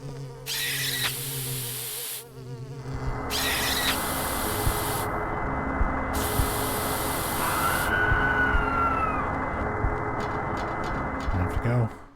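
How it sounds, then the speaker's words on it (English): Bug spray hissing at a ghost in the Silent Hill 4 video game: a steady, loud spraying hiss runs for several seconds with a high buzzing quality, preceded by short bursts, while a person talks over it. "And you spray her with the bug spray"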